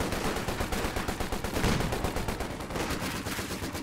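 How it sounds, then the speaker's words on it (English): Bren and Vickers machine guns fire in a WWII strategy game, giving a loud, continuous rattle of rapid, evenly spaced shots with no pauses and no talking. "Bren guns blaring away, as is the Vickers"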